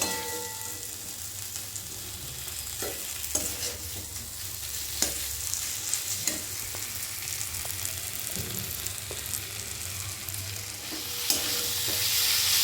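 Food sautéed and stir-fried in a pan for a home recipe, giving a steady close sizzle with scattered scraping and stirring clicks, no voices.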